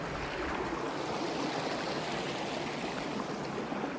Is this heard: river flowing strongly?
yes